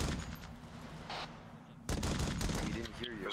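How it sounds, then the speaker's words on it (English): Plasma weapon fire from a jackal in a Halo game comes as rapid bursts of crackling shots, loud and close, followed by a heavier barrage of gunfire with faint voice chatter underneath. "Plasma fire 245 from a jackal."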